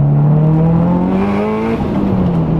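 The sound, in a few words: turbo car engine revving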